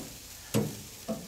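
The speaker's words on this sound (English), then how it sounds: "let's flip the burgers one more time." Burgers on a Yoder flattop griddle give two short sizzling bursts as they are flipped, a louder one followed by a softer one, over a quiet background.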